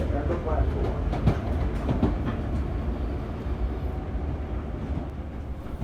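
Steady rumble and rattle of a train heading to Penn Station as it rolls into Bayside station, a continuous dense roar with faint clatter throughout and a voice mixed in.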